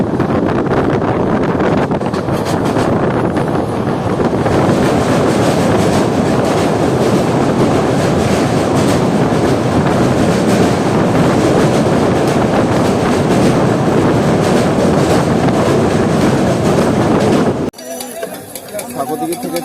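Kaviguru Express (13028, Azimganj route) runs on the main line of the Rampurhat section, a loud continuous rumble with clattering wheels and wind buffeting from on board, dropping away near the end, while someone talks.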